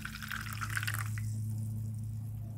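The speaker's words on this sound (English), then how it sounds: "I'm going to pour the solution of dissolved baking soda" A dissolved baking soda solution is poured into a bowl lined with aluminum foil, a short splashing, trickling pour that fades after about a second, leaving a low steady hum behind.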